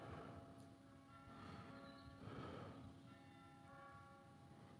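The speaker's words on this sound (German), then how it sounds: "Ah, Glockengeläut." Church bells ring somewhere in the distance, soft sustained tones with a few overlapping strikes swelling and fading over low background noise, with no talking.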